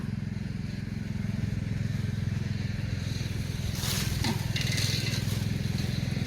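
A grass trimmer cuts grass on a rural Thai plot where fiddlehead ferns and durian trees grow, its small engine droning steadily and fairly close throughout, with brighter cutting noise swelling near the end.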